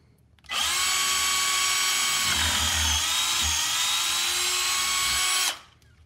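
A power drill runs steadily at high speed for about five seconds, boring out a hole in shallow-water anchor hardware, starting and stopping abruptly, loud and close with no talk.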